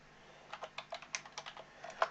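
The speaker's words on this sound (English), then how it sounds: "so I'll type that again." About a dozen quiet, evenly spaced keystrokes on a computer keyboard while entering data into an Excel spreadsheet, close and soft against a faint hum, ending with one sharper key press.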